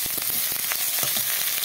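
Whole tomato dropped into a pan of frying ground onion, ginger and garlic, a close, loud sizzle with crackling spits and pops over a steady hiss, no talking.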